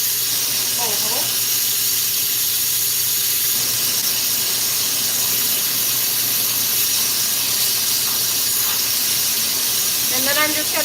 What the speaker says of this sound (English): I'm just gonna circle around that hole with the flame